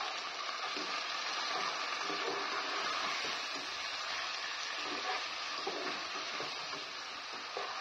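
Potato cubes fry with spice paste, turmeric and salt in a nonstick pan, giving a soft, steady sizzling hiss that stays even and fairly quiet throughout.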